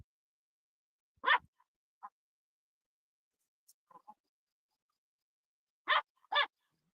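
Dogs bark in short, sharp bursts: a single bark, a faint yip, a couple of soft distant woofs, then two quick loud barks near the end, separated by silence.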